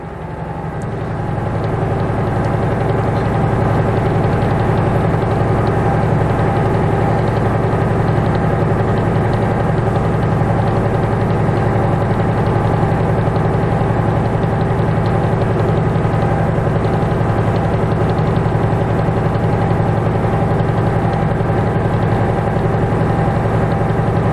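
A truck engine held at a raised, steady 1200–1400 RPM to build air brake pressure during a pretrip inspection, a loud continuous drone with a constant low hum throughout and no talking.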